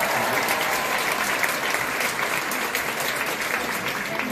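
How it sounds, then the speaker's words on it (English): Audience applause at a graduation ceremony in New York, a steady, dense wash of clapping from a large crowd that holds evenly throughout without breaks. "Can we give Barack Obama a round of applause?"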